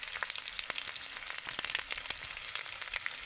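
Spices fry in hot oil for a hilsa fish dish, giving a close, steady sizzle with constant crackling pops and spits throughout.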